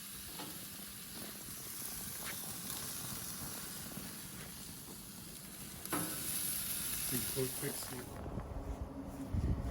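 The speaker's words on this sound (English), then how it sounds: "Now is the time for the pork chops and searing them." Sous vide pork chops sear on a hot grill, giving a continuous crackling sizzle and hiss with a few clinks and shifts, while a person talks faintly over it.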